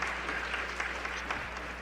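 A wrestling arena crowd claps in a sustained wash of applause. The sound is dense and fairly even, with faint voices mixed into the noise.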